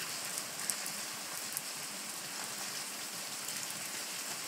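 Steady rain pours onto a surface in London's East Ham, a dense, even hiss of drops with no break, fairly close and constant throughout.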